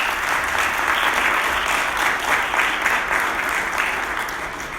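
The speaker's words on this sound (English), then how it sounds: "please join me in a round of applause for Dr." A full room of audience members applauds for a doctor being honored at an organization's event: dense, continuous clapping, fairly loud and steady, tapering slightly near the end.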